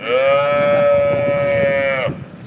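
A single long, loud moo from a nearby cow at a cattle market, held steady for about two seconds before cutting off, with faint background murmur.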